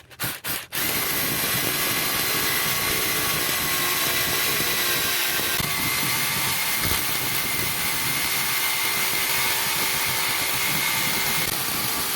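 A rotary hammer drill bores into cement for a solar light pole base, with a few short starting bursts and then one loud, continuous, steady grinding whine close up.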